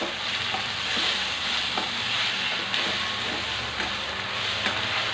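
Grated raw mango sizzles steadily in a hot pan while a spatula stirs it, soft periodic scraping strokes recurring over a continuous frying hiss, close and alone.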